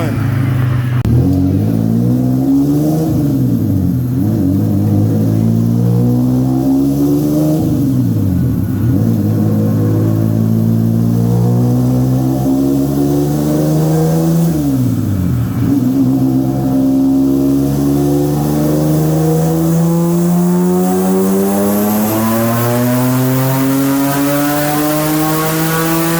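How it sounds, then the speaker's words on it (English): A turbocharged Hyundai Tiburon running a 2004 Hyundai Sonata engine revs on a dyno, its loud, close engine note repeatedly rising and dropping before a long sustained climb in pitch. "So this is a new motor for the turbo Tiburon."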